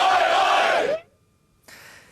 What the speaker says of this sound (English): The noise of a nation taking over, cheering on the Socceroos